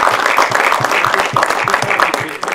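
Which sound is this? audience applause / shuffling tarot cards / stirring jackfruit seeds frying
audience applause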